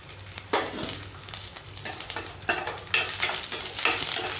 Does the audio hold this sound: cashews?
yes